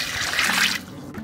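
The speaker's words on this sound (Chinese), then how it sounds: "倒水洗一下，" Water pours into a basin to wash freshly pulled coriander, a brief close splashing rush with no talk.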